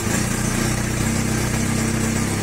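A 2001 Yamaha R1 sport motorcycle engine idles steadily once warmed up with the choke off, a loud, close, even rumble with no pauses or talk.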